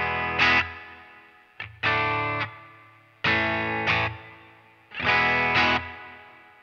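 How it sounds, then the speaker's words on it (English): Electric guitar chords ringing out through a Deluxe-style amp model with a little reverb, a few strummed and sustained phrases with a slight reverb tail, played alone. "we are just running the deluxe style amp with a little bit of reverb"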